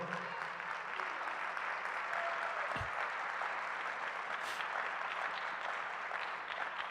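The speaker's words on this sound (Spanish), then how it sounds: "Da un aplauso al Señor." A church congregation applauds during a sermon, a steady wash of many hands clapping at moderate distance, fairly soft in level and sustained throughout.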